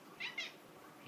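A cat gives two quick, faint meows close together indoors near a fish tank, with quiet room tone around them.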